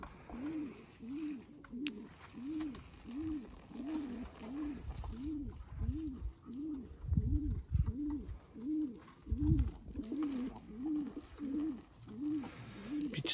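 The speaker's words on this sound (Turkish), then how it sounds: "Güvercin var arkadaşlar" Pigeons coo at their evening feeding in a rooftop loft, repeating a steady rhythmic series of soft, low calls close by, with faint background noise and no talking.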